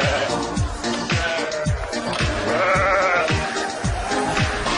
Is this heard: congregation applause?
no